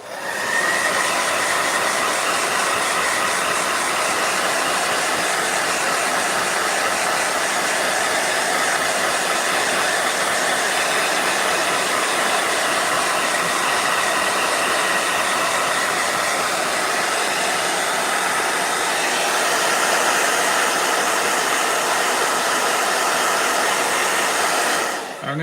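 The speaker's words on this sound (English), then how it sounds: "but blow dryer." A hair dryer blows continuously up close, a steady airy whir that holds unbroken for the whole stretch.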